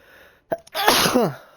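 A single loud, close sneeze, a short sharp intake followed by a forceful burst that trails off.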